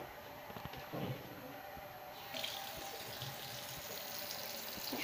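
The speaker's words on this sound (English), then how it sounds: "Okay, now wash your hands." Water running from a tap while hands are washed, a soft steady hiss of flow into a sink with small splashes and shifts in the stream, faint and close.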